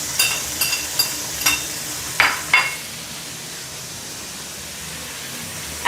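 Yellow onion frying over medium heat in a pot where chicken has been browned, with several sharp stirring knocks and crackles at first, then an even, moderate sizzle on its own.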